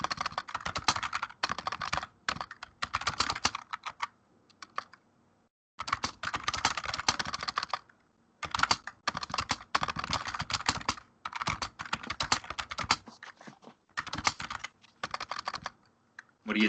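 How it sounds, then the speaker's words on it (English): Bursts of rapid clicking as someone types on a computer keyboard, a close, quiet clatter in short runs broken by pauses, with no talking. "What are you typing?"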